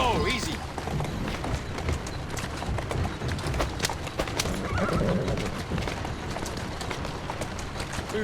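Horse neighing and galloping hooves in Assassin's Creed Syndicate, whinnies over steady clip-clop with busy game ambience and some voices throughout.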